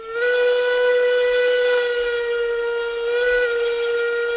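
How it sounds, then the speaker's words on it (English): A steam whistle for a 10-wheeler locomotive in a train simulator game sounds one steady, loud, harmonic blast that holds for over four seconds without any pause, alone and without talk. "there's the new whistle for the 10-wheeler"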